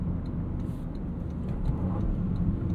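Engine noise from a 2025 Toyota GR Corolla's 1.6-liter turbocharged engine with a 6-speed manual, a steady low drone inside the car at moderate level with faint intermittent whistles, no talking.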